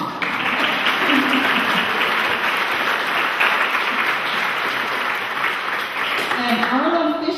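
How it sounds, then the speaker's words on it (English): Audience applause at a high school centennial gathering, a steady, fairly loud spread of clapping throughout, with a voice faintly breaking through near the end. "We should give him a special round of applause."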